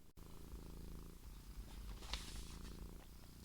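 A domestic cat purrs close by in a steady, low, continuous rumble that runs the whole stretch, with a brief soft knock near the start.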